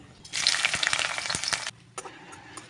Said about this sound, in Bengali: পেঁয়াজটাকে আমরা হালকা লাল লাল করে ফ্রাই করে নেব